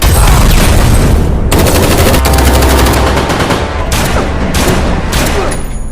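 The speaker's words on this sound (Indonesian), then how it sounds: "sehingga aksi tembak-tembakan pun tak terelakkan lagi" Loud, dense automatic gunfire from a film shootout between soldiers and the characters, sustained bursts of rapid shots with a few pauses, filling the scene without speech.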